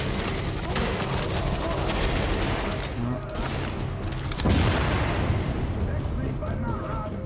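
Heavy gunshots in The Division, a co-op shooter on PS4, loud booming gunfire blending into dense battle noise with a strong blast midway, while players talk over it.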